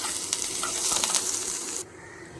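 Mustard seeds splutter in hot oil for a jackfruit sambar, a close crackling sizzle with scattered sharp pops that cuts off abruptly near the end.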